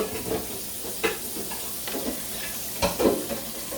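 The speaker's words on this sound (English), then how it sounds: "we're gonna go ahead and cover it for a little bit and let it get a good steam" Crab and shrimp boil steaming in a covered pot on the stove, a steady bubbling hiss with occasional soft knocks of the lid and pot, and no voices.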